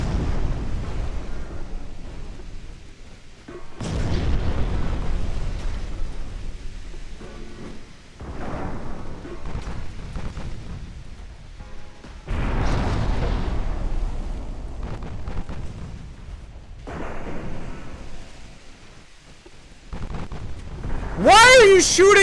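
Heavy naval gunfire and shell explosions in the warship battle game Ultimate Admiral Dreadnoughts: repeated loud, rumbling booms arrive every few seconds, with a voice talking at times between them.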